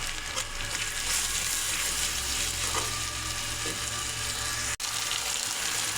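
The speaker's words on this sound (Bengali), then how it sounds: "এখন গুলে রাখা মশলা ঢেলে দেব।" Spiced paste hitting hot oil in a pan for a pangas fish head curry with potatoes, giving a loud, steady, close sizzle and hiss throughout with one brief dropout near the end.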